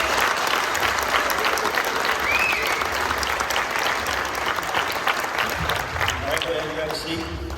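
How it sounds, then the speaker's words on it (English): A crowd at a Fishing for Freedom event breaks into loud, sustained applause that fades gradually toward the end, with voices mixed in beneath the clapping. "let's give them a huge round of applause"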